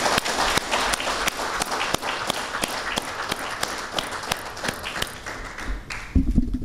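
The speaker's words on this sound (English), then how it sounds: "will deserve a big round of applause from all of us" A big round of applause from the audience at a Toastmasters club installation ceremony, continuous crowd clapping with a few sharper claps standing out, fading slightly near the end.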